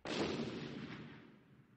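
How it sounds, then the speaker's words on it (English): A single explosion sound effect in a narrated English-learning story set near a river excavation: one sudden loud blast with a deep rumbling tail that fades over about two seconds, with no speech over it. "Then I heard an explosion."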